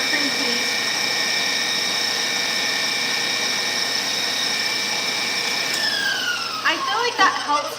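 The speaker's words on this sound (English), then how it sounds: "I'm whisking our cream cheese." Cream cheese being whisked: a steady, high motor whine runs continuously, shifting pitch near the end with a few clattering knocks as the whisk moves.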